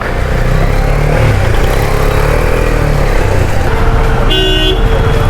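Busy road traffic near Rishikesh on the way into the hills, with cars and motorcycles rumbling loudly close by and a bright car horn honking near the end, no voices.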